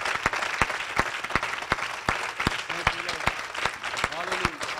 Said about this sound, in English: I need everyone to clap your hands to the Lord right now.